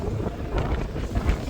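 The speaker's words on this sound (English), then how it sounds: "But it's really windy though." Strong wind buffets the microphone on the coast at Cromer, a continuous low roaring rumble with gusty swells and no voices, close and loud throughout.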